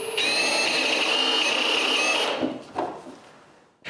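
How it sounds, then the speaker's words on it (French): A power drill drives a metal screw into cedar wood, a sustained high whirring grind for about two seconds, then the motor winds down, followed by a couple of soft clicks and knocks, close up. "je visse une vis en métal avant de celle en laiton"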